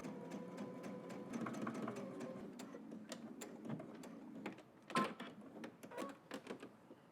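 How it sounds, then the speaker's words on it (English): A sewing machine stitches in the ditch along the seam of a shirt cuff on an oversized button-up shirt, running in a steady close whir with rapid needle ticks, pausing briefly and starting again. "we're going to stitch in the ditch to catch that and close out the cuff."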